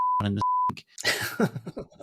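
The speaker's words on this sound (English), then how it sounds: "now I'm going to have to do a lot of beeping for that." A steady 1 kHz censor beep sounds twice in quick succession, briefly broken by a muffled voice, blanking out a swear word before normal talking resumes.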